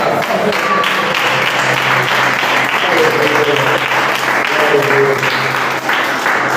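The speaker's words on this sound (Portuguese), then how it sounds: "Aplauda esse casal" A church congregation at a family service applauds a married couple, loud sustained clapping that stays full and even throughout, with faint voices mixed in.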